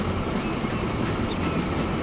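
A train runs on rails in a video game, a steady, loud rumble with a continuous rolling clatter and no break throughout.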